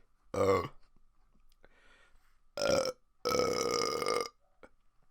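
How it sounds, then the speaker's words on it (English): Three loud, resonant burps from a person after drinking cider, the last one long and drawn out, separated by short quiet gaps with no talking. "That's also the thing about this cider. Makes you burp a lot."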